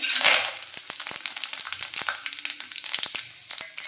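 Cinnamon, cloves, bay leaf, star anise and fennel fry in hot oil, crackling with sharp, irregular pops over a soft sizzle, close by and without talk.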